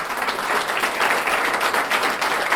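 An audience at a French talk gives a dense, steady round of applause that fills the whole moment, close and loud with no break.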